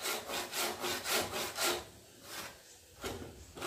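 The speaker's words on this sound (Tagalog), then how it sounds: "Ngayon po, naglalagari naman." A hand saw cuts through wood in steady rhythmic back-and-forth strokes, close and clear, then pauses briefly before another stroke; no voices.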